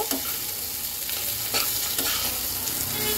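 Chunky onion pieces with green chillies crackle and sizzle in a hot pan for an egg curry, a constant close hiss broken by a handful of light spatula taps.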